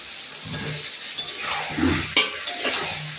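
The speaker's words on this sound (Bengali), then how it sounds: "মাংস কষা হয়ে গেলে এবারে আলু দেবো।" Potatoes go into a pot of meat curry frying after the braising, with a metal spoon scraping and stirring amid soft clinks and a low sizzle, close and fairly quiet throughout.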